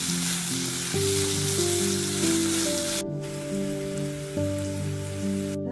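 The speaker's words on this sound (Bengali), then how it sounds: "নুন দেব, হলুদ করে দেব, ভালো করে একটু ফ্রাই করে নেব" Potatoes sizzle in hot oil with salt and turmeric, a continuous crackling hiss heard close up, joined by tonal hum and clinks from stirring, with no voices.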